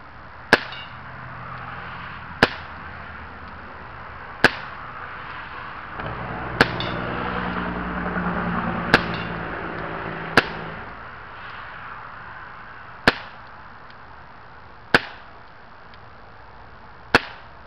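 A BB gun fires ten sharp, evenly spaced cracks roughly two seconds apart, the pellets aimed at a can in grass outdoors, with a faint tink barely distinguishable after some shots.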